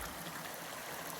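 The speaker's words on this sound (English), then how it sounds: "This creek here" Creek water runs steadily as runoff below a dismantled earthen reservoir dam, heard on a rainy hike: a soft, constant, close trickle with no speech.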